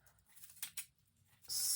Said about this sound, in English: I'm going to take my scissors and just snip the loops of the tails that I want hanging down